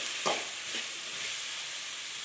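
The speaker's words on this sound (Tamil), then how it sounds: "இது நல்லா வதங்கட்டும்." Snake gourd and tomato sautéing in a pan: a soft, steady sizzle with two brief spoon scrapes early on, close but quiet, and no one speaking.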